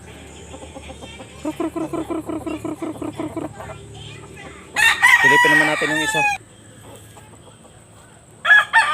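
Chickens cluck in a rapid rhythmic series, then a fighting rooster with its comb removed crows loudly nearby, with a person speaking briefly in between.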